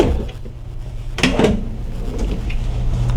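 Drawers in a 2019 Newmar Dutch Star 4369 motorhome slide open and shut, with a short burst of wooden knocks and rattles near the middle, close by, over a steady low hum.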